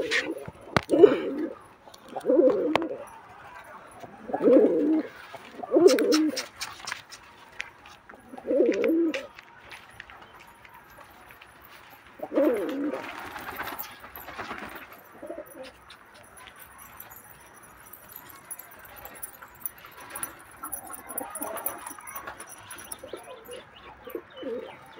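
Pigeons coo in a series of low, throaty calls close by, about five in quick succession, followed by more scattered cooing and faint chirps, with a brief rustle that may be wing movement and some quiet background murmur.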